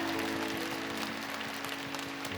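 A church congregation at a prayer meeting claps in a dense, continuous patter, with a steady low hum underneath, fairly loud and sustained throughout.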